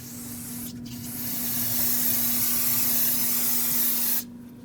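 Cleaner is sprayed onto the outer braking surface of a front brake rotor on a 2005–2021 Nissan Frontier: a loud, steady aerosol hiss lasting about three seconds, close up over a low hum, then cutting off.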